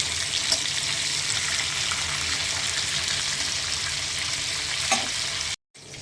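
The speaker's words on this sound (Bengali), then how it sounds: "গরম হয়ে গেছে, এবার চিকেনগুলো ভেজে নেব" Chicken pieces seasoned with salt and turmeric frying in hot oil, a steady close sizzle with occasional stirring clinks, cut off by a brief silence near the end.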